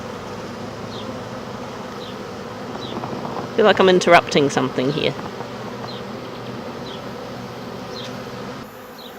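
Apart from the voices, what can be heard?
honey bees buzzing around beehive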